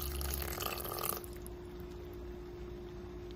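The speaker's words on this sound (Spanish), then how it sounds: "le vamos a agregar un poquito de agua" Water poured from a container into a blender jar of spicy homemade salsa, a brief close splashing trickle lasting about a second before it stops, leaving a low steady kitchen hum.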